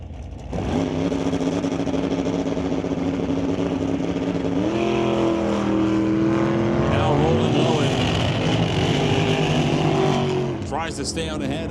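Hot rod drag cars, a Chevy II and a Meteor, roar down the strip in a sustained, loud engine drone that shifts pitch as they accelerate, with a track announcer talking over it.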